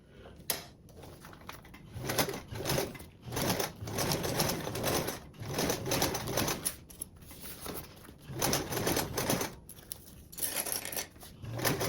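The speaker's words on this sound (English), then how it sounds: "we are going to top stitch along the lining portion with a 1/8 seam allowance" A sewing machine top stitches along the lining of a tote bag with a 1/8 inch seam allowance. It runs in repeated rattling bursts with brief pauses between them and is heard close up.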